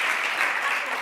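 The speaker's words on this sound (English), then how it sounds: "Yes, that definitely deserves an applause." An audience at a university student excellence awards ceremony applauds, a dense, steady wash of clapping filling the whole moment without pause.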